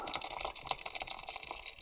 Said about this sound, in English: you will add a bit more hot water